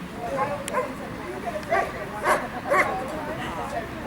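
A police dog at a West Midlands Police attack demonstration at an outdoor fun day lets out a few short barks and yips, three clear bursts mid-clip, partly under ongoing talk.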